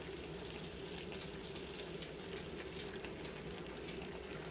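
Vegan puttanesca sauce simmers briskly in a pot, almost boiling, with a continuous soft bubbling and popping. It is fairly faint, close and steady throughout, and no one speaks.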